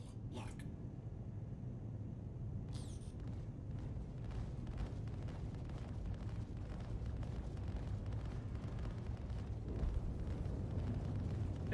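A missile strike in a space combat game lands as a dense, low rumbling blast over a steady engine drone, with brief high bursts near the start and a small swell near the end.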